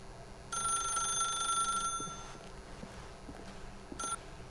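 An old-style telephone bell rings in The Stanley Parable video game, a bright electric trill in one long burst followed by a shorter second ring, with faint footstep-like knocks underneath.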